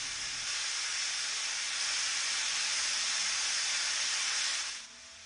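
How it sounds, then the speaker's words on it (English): A pressure cooker whistle releases steam in a loud, continuous high-pitched hiss that holds steady for nearly five seconds, then cuts off abruptly into quieter background. "Listen to the whistle."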